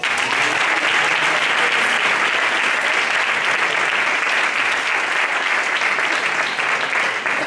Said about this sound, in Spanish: ¿Cuántos pueden dar un aplauso?